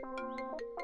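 A mobile phone ringtone plays a short, bright melodic run of quick rising and falling notes, clear and fairly quiet, lasting under a second.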